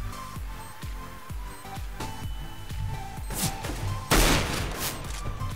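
Pistol fire in a Counter-Strike match: a rapid run of sharp, evenly spaced shots, near and fairly loud, ending in a denser burst of blasts, with no voices over it.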